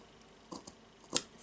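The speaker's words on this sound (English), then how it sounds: "scissors and cut." Scissors snip through friendship bracelet cords just past a knot: a few soft rustles, then one sharp, close cut that stands out briefly in a quiet room.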